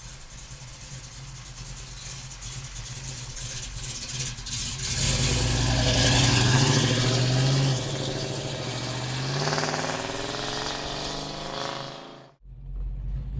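A 1972 Plymouth Barracuda with a numbers-matching 340 V8 rumbles while driving, the engine note swelling under acceleration then easing back, heard from inside the car over road and wind noise before a sudden cut.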